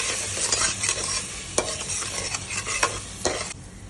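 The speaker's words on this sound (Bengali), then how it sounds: "আবারও আমি ভালো করে পেস্টটাকে ফ্রাই করে নেব।" Spice paste stir-fried in a pan for rui fish-head muri ghonto, a steady sizzle broken by several sharp spatula scrapes and stirs, close and alone with no voices.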